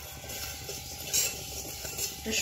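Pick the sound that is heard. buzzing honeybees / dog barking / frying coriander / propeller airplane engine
frying coriander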